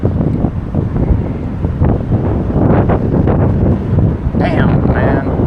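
Strong wind buffets the microphone outdoors while fishing from a bridge over the Intracoastal Waterway, a loud, gusty rumble that swells and fades throughout, with a brief faint squeak near the end.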